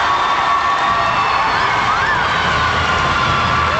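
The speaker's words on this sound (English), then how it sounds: "Let's give the Central Knights a big round of applause." Crowd at a state championship high school hockey game cheers and applauds in a steady, loud wash of noise in a reverberant arena, with whoops rising above the din throughout.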